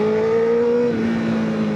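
A Honda CBR1000RR Fireblade engine revs steadily with a sustained droning whine that sags slightly midway, heard up close and loud with no voices.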